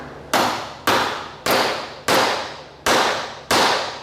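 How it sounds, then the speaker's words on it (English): A hammer drives down on a cable crimp laid on the corner of a workbench during racecar wiring for a Dodge D150 drag build, six sharp, evenly spaced blows with ringing decay, close and loud, no talking. "you just got to have a good solid surface to hammer on"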